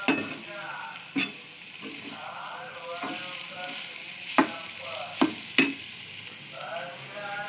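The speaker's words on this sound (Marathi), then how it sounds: "इलायची टाकल्यावर परत परतून घ्यायचं, चांगलं मिक्स करायचं" Grated carrot halwa with cardamom being stir-fried, a steady close sizzle broken by several sharp clacks of a spoon against the pan at irregular intervals, moderately loud with no talking.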